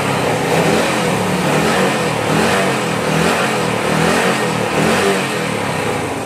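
A Honda Astrea Grand motorcycle fitted with LED lights is revved repeatedly close by, its engine surging and easing in several loud waves with no talking.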